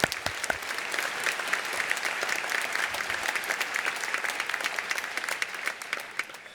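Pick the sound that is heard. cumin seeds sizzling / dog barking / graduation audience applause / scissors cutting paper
graduation audience applause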